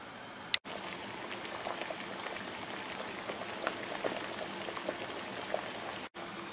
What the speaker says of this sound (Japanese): スープと一緒に麺を1分半袋のまま湯煎します。